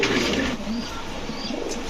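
Pigeons coo in low, soft murmurs against a steady background hiss, the cooing close and continuous.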